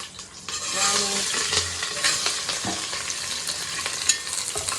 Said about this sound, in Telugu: ఆనియన్స్ మంచి గోల్డెన్ బ్రౌన్ కలర్ వచ్చింది దాకా ఫ్రై చేసుకోవాలి.